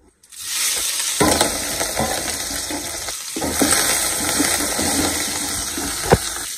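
Green chilli, capsicum and curry leaves hit hot oil for a spicy idli fry, giving a loud, steady close-up sizzle that dips briefly midway, then surges again, with a light utensil clink near the end.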